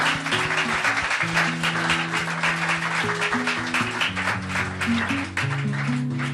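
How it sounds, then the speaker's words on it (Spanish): A congregation applauds during a Spanish-language church worship service, dense clapping layered over sustained organ or keyboard music. "Yo le daría un aplauso que se rompa esto aquí"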